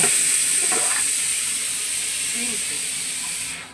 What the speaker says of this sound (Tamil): இந்த கரண்ட் அடுப்பு எடுத்து குக்கரில் சாப்பாடு வேகுது